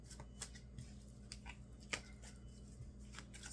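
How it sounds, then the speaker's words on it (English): Tarot cards being shuffled by hand, a soft continuous papery riffling with scattered light flicks and taps, close and fairly quiet, with no talking over it. "Let's shuffle these cards up"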